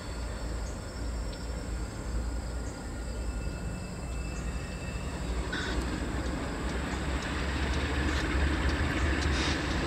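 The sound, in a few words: Pan Am freight train departing East Deerfield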